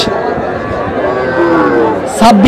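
Busy ambience at the Chandaikona cattle market in Sirajganj, with young heifers lowing amid a crowd's chatter, steady and dense throughout, with a louder burst near the end.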